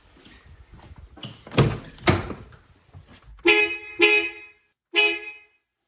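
A few soft thumps and knocks, then three short, loud blasts from aftermarket horns on an FJ Cruiser, the last after a brief pause.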